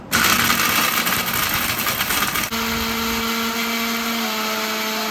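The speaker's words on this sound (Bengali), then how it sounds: "Veronica MasterChef 1400 watt mixer grinder, শক্তিশালী পারফরমেন্স" A Veronica Master Chef 1400W mixer grinder grinds cinnamon sticks with a loud, steady motor whine and gritty rattle. Midway the roar abruptly settles into a smoother, tonal hum as the spice breaks down.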